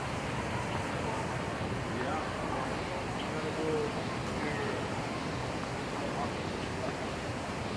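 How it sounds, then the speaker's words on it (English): Constant broadband rush of water falling from a man-made waterfall in a hotel garden at Waikiki, Oahu, Hawaii, steady and fairly close, with faint voices underneath. "Right at Ilikai's you can find some man-made waterfalls as well."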